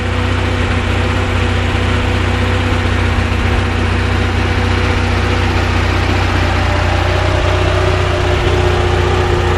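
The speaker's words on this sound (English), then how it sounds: "So now I'm going to slow down the engine tick over" A 1980 Volkswagen engine with a Solex PICT 34 carburettor idles steadily at low revs, a constant close rumble with a faint hum and no speech throughout.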